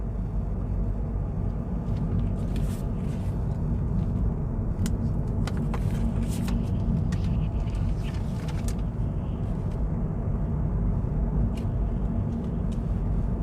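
A Hyundai Ioniq 28 kWh electric car driving slowly back and forth at a very low battery charge, a steady broadband road and tire rumble throughout with faint intermittent clicks and no voices.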